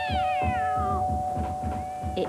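A cat named Jessie howls from a garden wall at night, a loud, close, continuous wavering yowl with sliding pitch and a rough pulsing undertone, heard alone.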